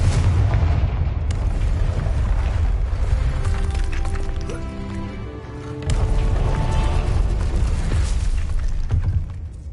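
A Confringo blast spell in the video game Hogwarts Legacy, heavy booming explosions and rumbling bursts that fill the scene, with a louder impact partway through and continuous game noise underneath.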